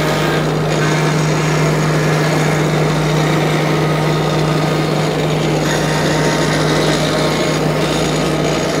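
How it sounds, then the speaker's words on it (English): A wood shaper runs steadily while cutting a 1/8 inch round-over along the edges of wooden table pieces, a loud continuous motor whine and cutter noise with no talk. "take them over to my shaper and we're gonna give them a 1/8 inch round over on all the sides"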